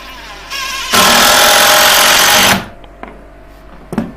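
A power drill drives screws into a wooden joist during roof repair work on an old watermill, with a short low whir followed by a loud, steady drilling burst of about a second and a half, then a few faint knocks.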